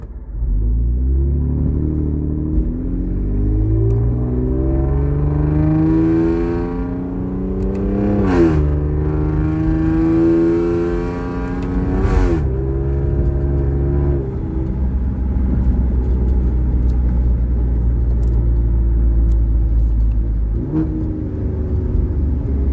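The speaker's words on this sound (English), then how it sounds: "I'm just going to drive regularly the same way that I just did. But I'm going to be shifting now." A tuned car accelerates through the gears, engine pitch climbing and falling back with each shift across several upshifts, a loud, continuous close drone heard from inside with no talking.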